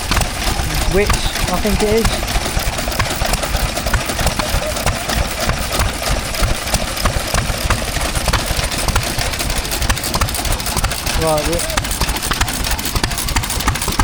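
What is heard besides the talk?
Wit stationary engine running a water pump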